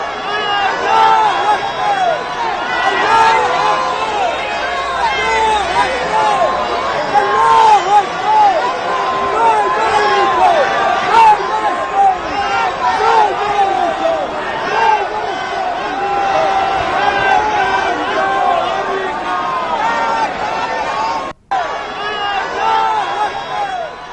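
Dense crowd noise from thousands of people at a Quds Day rally in Tehran after an explosion, a steady loud roar of overlapping voices, shouts and scrambling footsteps lasting throughout, with only a brief dropout near the end.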